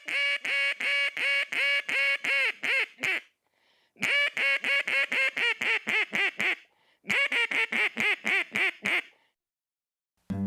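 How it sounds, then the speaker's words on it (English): A handcrafted wooden duck call blown in a hail call: three long runs of loud, rapid, evenly spaced quacks, each burst of about a dozen notes separated by brief pauses, clear and close with no talking. "I'm gonna blow a little hail call."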